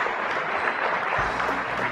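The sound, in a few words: audience applause welcoming the award presenter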